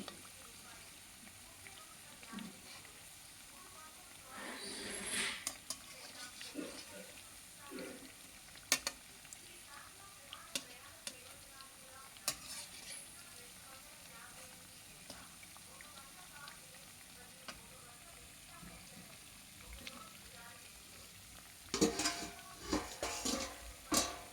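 Wheat biscuits fry in oil until golden, a soft, low sizzle broken by scattered clinks and scrapes of a utensil against the pan, with a louder burst of stirring near the end.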